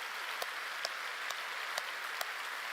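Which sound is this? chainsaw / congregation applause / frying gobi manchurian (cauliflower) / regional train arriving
congregation applause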